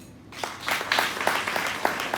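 A conference audience claps its hands, a scattered patter of applause that builds after a quiet start and holds steady for a couple of seconds, moderately loud with no talking over it.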